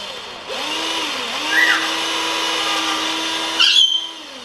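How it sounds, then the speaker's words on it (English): A power drill whirs steadily for a few seconds, pitch dipping as it drills a hole through the side of a corn flower flamethrower, then winds down and stops. "grab your drill and just drill a hole straight through the side there"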